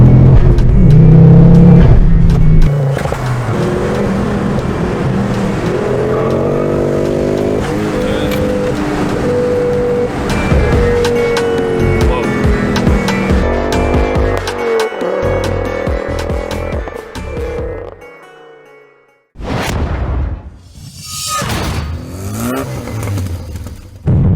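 A Ford Focus RS engine revs hard and repeatedly up to the rev limiter, loud and close, with sweeping harmonic climbs and a brief drop to near silence before further sharp revs.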